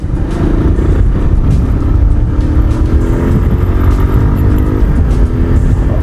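A Bajaj Pulsar 150 motorcycle engine being ridden through city streets, with a steady, loud, close drone and faintly rising engine tones throughout, with no talking.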